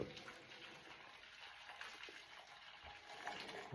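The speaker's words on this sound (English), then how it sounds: "The kettle's just boiled. That's it, let's get that water in there, and that can be soaking" Freshly boiled kettle water is poured into a pan left to soak for cleaning, a steady faint splashing gush running throughout, close by and heard alone.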